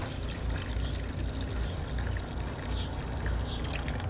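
Water pours steadily into an ultrasonic cleaner tank being topped up with Simple Green, a continuous close splashing rush that stays even throughout.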